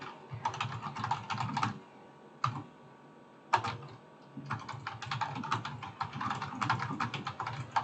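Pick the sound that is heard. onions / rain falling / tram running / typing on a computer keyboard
typing on a computer keyboard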